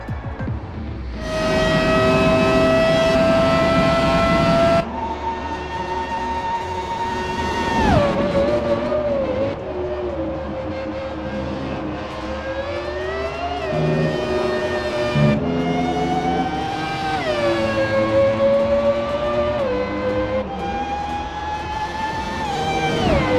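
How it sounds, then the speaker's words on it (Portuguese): A 1998 McLaren MP4/13 Formula 1 car's engine in the F1 2017 video game screams loudly at high revs, rising and dropping through repeated gear shifts for over twenty seconds with no voices. "Barulhinho do motor do carro é bonito, né?"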